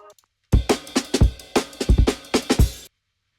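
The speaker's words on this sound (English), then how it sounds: "our last little touch is this little part of an amen break" Amen break drum sample playing in FL Studio: a quick, punchy breakbeat of snappy snares and kicks with cymbal wash, close and loud, running about two and a half seconds before stopping dead.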